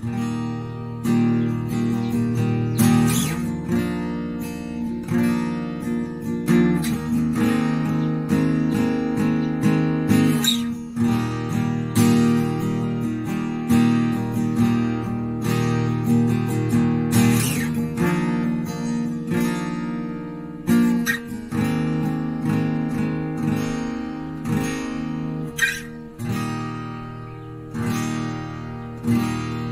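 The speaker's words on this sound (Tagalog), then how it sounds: "Matagal po yung ringing ng gitara sa kanya." Thomson TAC-2CN acoustic guitar strummed and picked, with chords ringing out and sustaining long between strokes, bright and continuous with no talking.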